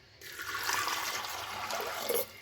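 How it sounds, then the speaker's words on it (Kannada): Water pours steadily into a pot of fresh field beans for a Mandya-style bassaru sambar, a continuous splashing rush lasting about two seconds and then cutting off. "ಒಂಚೂರು ನೀರು ಹಾಕಿದ್ದೀನಿ."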